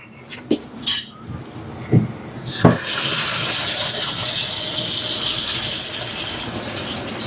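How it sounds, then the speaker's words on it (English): Tap water gushes steadily into a kitchen sink during a strainer replacement, after a few sharp clanks and knocks from the fittings. The loud, even flow continues for several seconds with no voices. "So I'll let that water run for a couple minutes."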